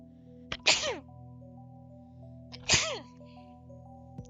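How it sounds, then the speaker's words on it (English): Two sharp sneezes about two seconds apart, each a quick inhaled catch followed by a loud burst, close to the microphone over a faint steady hum. "Okay. Gonna sneeze."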